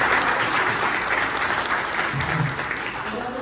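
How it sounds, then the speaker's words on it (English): An audience at a speaker-series event on Long Island gives a round of applause, a dense, steady patter of many hands clapping alone for about three seconds before easing slightly toward the end. "So just a round of applause for Blessings Hospitality"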